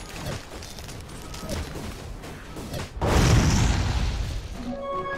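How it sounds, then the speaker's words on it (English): A middle tower under attack in Dota 2, with soft thuds and pops giving way to a louder booming impact and rumble, followed by a short rising chime. "Dire's middle tower is under attack"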